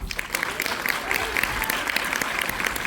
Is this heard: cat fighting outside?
no